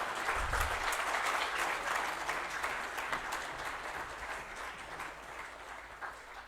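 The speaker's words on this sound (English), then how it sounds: "A big round of applause." An audience at a corporate conclave gives a sustained round of applause, a dense, even wash of clapping that holds steady throughout and fades slightly toward the end.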